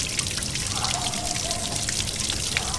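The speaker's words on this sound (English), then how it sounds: "Okay, turn on some water." Water runs steadily from a garden hose hooked up to an Astroglass bass boat outboard, a continuous splashing hiss with a soft trickling texture, moderately quiet and uninterrupted.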